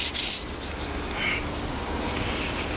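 Soft, steady scratchy rubbing of sandpaper on metal art, close and continuous with slight swells, no voices.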